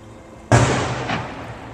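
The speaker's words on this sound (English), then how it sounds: "That was a cannon, too." A cannon fires once with a sharp, loud boom that rolls off into a fading rumble and echo outdoors.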